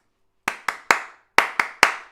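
Six sharp hand claps during a sing-along, loud and close, in two groups of three with a short pause between them and no voices.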